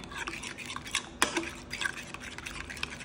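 Corn flour is mixed with water in a bowl, a steady scraping and stirring of a utensil against the dish with one sharper clink partway through, close and fairly quiet, no voices.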